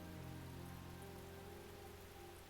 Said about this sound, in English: From outside the window, I can hear the faint sound of water cutting through the air.